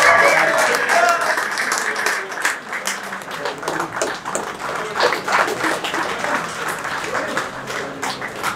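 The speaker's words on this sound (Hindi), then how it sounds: "तो जो बैट्समैन रहे टी टेन के जो बैट्समैन हैं जोरदार तालियों से, उसमें आनंद बडोनी जी हमारे बीच हैं." A crowd at a charity T20 and T10 cricket match event applauds a batsman: sustained, dense clapping that starts loud and stays steady, with a voice briefly heard at the start.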